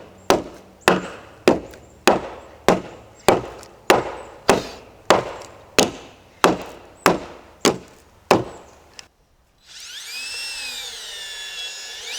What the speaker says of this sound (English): Where's that mallet? That's what we need.